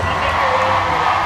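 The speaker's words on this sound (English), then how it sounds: "Please give them a round of applause." A large concert crowd cheers and whoops loudly and steadily, a dense wall of voices at a live show in Atlantic City with no pause in the noise.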